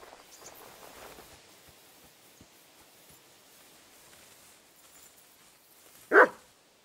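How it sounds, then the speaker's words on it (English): A dog barks once in Kingdom Come: Deliverance II, a single sharp bark from mid distance after a stretch of quiet ambient background. "Barking."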